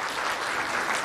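Audience applause fills a hall at a Kannada film pre-release event, a loud dense burst of clapping heard alone.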